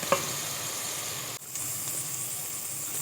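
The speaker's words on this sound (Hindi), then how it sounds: "अब सब्ज़ चनों को फ्राई करेंगे कीमे के साथ।" Minced meat keema frying with green chickpeas in a pan, a steady dense sizzle and hiss that carries on evenly throughout with no talking.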